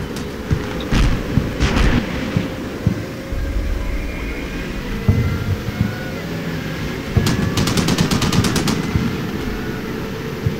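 Irregular forces open fire in the war game Combat Mission: Shock Force. Short gunshot cracks sound early, then rapid machine-gun bursts follow over a constant rumbling battlefield background.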